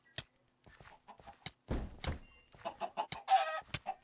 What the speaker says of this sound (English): It's a big chicken.